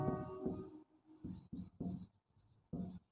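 A marker squeaks across a classroom board while numbers are written out for a sixth-grade maths lesson on place value, in several short separate strokes with brief pauses between them.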